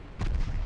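Naval guns fire in the warship game Ultimate Admiral Dreadnoughts, a single short, heavy boom that thumps low and fades quickly.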